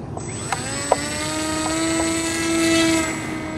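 A Bixler 2 RC model airplane's electric motor whines in flight, a steady high-pitched buzz with clear harmonic tones that swells slightly as the plane passes, with a couple of brief clicks near the start.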